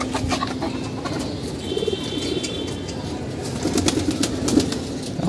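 Pigeons coo softly and repeatedly among a steady outdoor wash of background noise, with a few scattered chirps.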